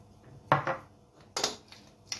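A quiche filling is stirred together in a bowl: a few brief, sharp clinks and clatters of a utensil against the bowl, close and separated by short pauses, with no voices.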